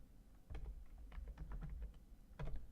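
Keystrokes on a computer keyboard entering a matrix command, a few quick clustered clicks in short bursts, close and fairly faint with no talking.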